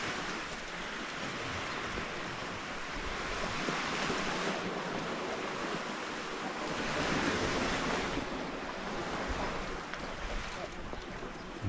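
Waves lapping a small beach at Camp de Mar, a continuous rolling wash that swells and fades in gentle surges, mixed with wind noise on the microphone and no clear talk.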